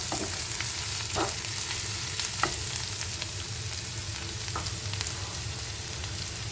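Green chilies being added to onions frying in a pan, a steady oil sizzle throughout with a few sharp stirring clinks and scrapes of a spatula.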